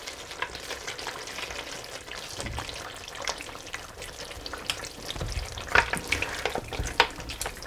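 Yogurt being stirred into a pan of sizzling karahi gosht, a steady frying crackle with a utensil scraping and mixing through it, growing busier and louder toward the end; no talking.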